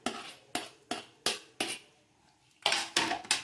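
A spoon scrapes fried onion and capsicum into a pan of Kashmiri paneer curry, making a quick series of about ten sharp metal clinks and taps in an uneven rhythm, loud and close with no talking.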